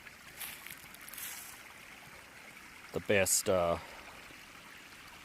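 A small creek runs near a trail campsite just up from Deep Gap, giving a faint, steady trickle in the background, with a brief spoken remark partway through.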